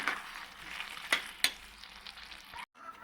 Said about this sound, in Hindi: इसको हम अच्छे से ना मिक्स कर देते हैं।